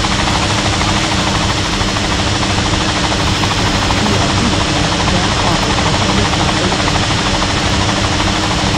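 Helicopter in the video game City Life RPG 2, a constant loud rotor and engine roar with steady chopping texture, while a voice chats over it throughout.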